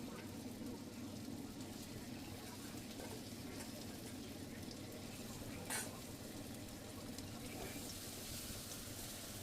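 Spice paste being stir-fried with fried potatoes in a pan for a Bengali fish curry: a soft, steady sizzle with occasional spoon scrapes against the pan, faint and continuous throughout.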